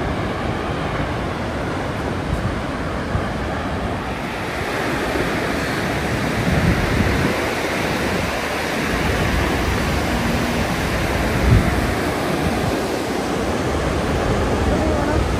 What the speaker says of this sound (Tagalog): Grabe yung power ng waterfalls.